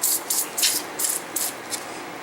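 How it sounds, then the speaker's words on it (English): Lubricant sprayed from an aerosol can onto an Italian Model 1938 Carcano folding knife bayonet, a series of about six short, sharp hissing bursts close up. "I'm just going to spray some lubricant on here."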